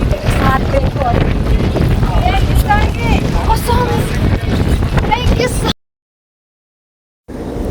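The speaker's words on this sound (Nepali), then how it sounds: "हावा चढिरहेको छ" Strong wind on an outdoor day, heavy rumbling gusts buffeting the microphone with voices faintly audible underneath, then a sudden cut to near silence before the blowing resumes.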